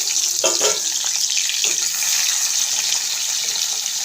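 Small tengra fish dropped into hot oil, a dense bright crackling sizzle that fills the whole stretch evenly, close and loud, with a couple of soft knocks early on.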